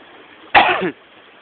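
A single short, harsh cough bursts out close by, lasting under half a second against quiet background hiss.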